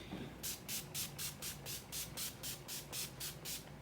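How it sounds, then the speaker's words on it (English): Rapid bursts of de-slick makeup setting spray, about a dozen quick even pumps in a steady rhythm, close and fairly soft. "I'm gonna spray some de-slick really quick."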